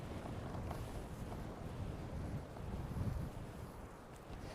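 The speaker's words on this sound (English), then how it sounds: "Now it's a proper headwind." A strong headwind buffets the microphone during a bike tour near Namyang, South Korea, a low, continuous roaring rumble with gusty swells.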